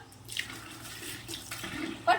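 Water is poured during a child's bath. A steady close splashing rush swells in a few places and ends with a louder burst.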